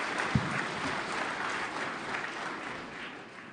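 Audience applause at a senior finals event, a soft, steady wash of clapping heard from a distance, fairly faint and continuous for a few seconds with little talk.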